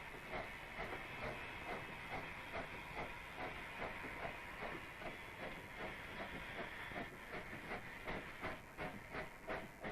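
A freight train hauling copper on the Zambian railway in the 1960s rolls past with a steady hiss and a regular rhythmic clatter of wheels, faint and continuous with no voices.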